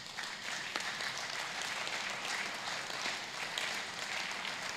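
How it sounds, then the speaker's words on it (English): A church congregation claps for Jesus during a sermon, a steady wash of many hands at moderate loudness with no speech over it. "please clap for Jesus"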